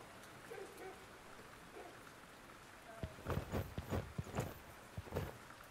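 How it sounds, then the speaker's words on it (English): Video game horse hooves clop on a hard surface in stables in The Dwarves, a handful of uneven steps growing louder in the second half over a soft background hiss. "You see some good horses and ponies in the stables."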